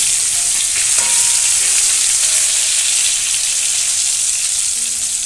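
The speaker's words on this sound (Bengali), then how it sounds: "বেগুনটাকে আমি এবার একটু উল্টে পাল্টে ভেজে নেব" Eggplant fries in a pan with a loud, dense, hissing sizzle that runs throughout. A light knock comes early as the piece is turned over.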